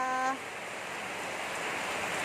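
Steady rain falling all day and night, a soft, even hiss that continues without a break after a short tone at the start.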